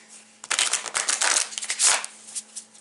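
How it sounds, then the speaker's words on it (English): Spellcasting oracle cards are shuffled close up in a quick run of crisp riffling bursts and soft flutters, alone in a quiet room. "shuffle the spellcasting oracle cards"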